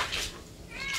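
A cat meows in a flooded house, with a clear cry at the start and another near the end against a quiet background.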